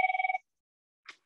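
A phone rings with one short burst of rapid electronic trilling, close and clear, followed by a brief faint chirp after a pause of silence.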